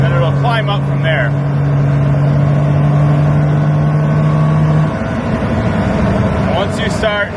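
Polaris Ranger 1500 with a flashed ECM and TCM, its engine droning loud and close as it climbs in RPM, with a sustained steady tone, while someone talks over it.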